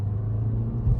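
Engine of a 2020 Mazda CX-5 revving as the SUV pulls away, a steady low rumbling drone with a slight swell near the end, heard from inside the car without talking.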